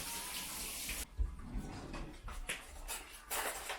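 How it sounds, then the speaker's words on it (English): Running tap water splashing over hands being washed in a kitchen sink, a steady hiss with gentle splashes and brief fluctuations as the hands move under the stream, close and alone. "that's probably a good time to wash up those hands"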